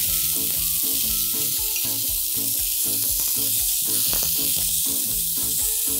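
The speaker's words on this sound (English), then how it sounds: "You want that sizzle." Loud, steady sizzling and crackling of king oyster mushrooms on a hot grill pan, continuous and close, with no voices.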